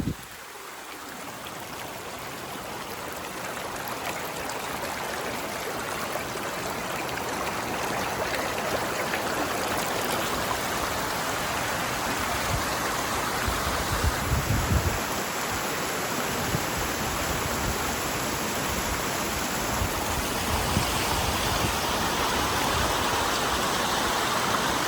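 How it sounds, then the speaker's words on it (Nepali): A waterfall near Shantipur, Nepal, pours with a steady, close, full-bodied roar of rushing water that holds unbroken for the whole stretch, with no voices. "शान्तिपुर नपुग्दै 4 किलोमिटर अगाडि नै यहाँ चाहिँ राम्रो झरना रहेछ"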